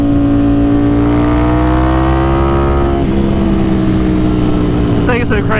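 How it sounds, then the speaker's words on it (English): A Ducati Streetfighter V4S fitted with a Cordona quickshifter accelerating hard, its loud engine note climbing steadily in pitch, a brief shift dip near the middle, then climbing again, with wind rush close up. "How fast this bike is."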